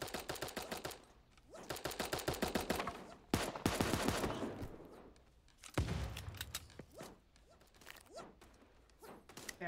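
Video game gunfire in Super Animal Royale, a cartoon animal battle royale: rapid bursts of automatic shots crackle loudly in quick succession, broken by a few heavier single blasts and short pauses, with no talking.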